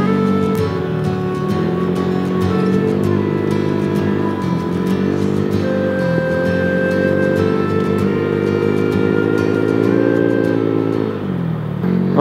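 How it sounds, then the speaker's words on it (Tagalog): A Honda Click 150 scooter engine strains under load on a hot road ride, a loud continuous drone with steady harmonics that dips and recovers a few times as the throttle shifts, with no talking. "Galit yung makina."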